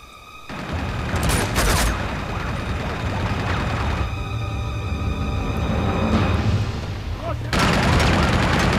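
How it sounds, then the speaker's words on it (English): Assault rifle fire from Uncharted 2: Among Thieves crackles in loud sustained bursts, with heavy rapid gunshots and booming impacts amid combat noise and brief pauses. "Now this assault rifle is actually pretty decent for long-range shooting"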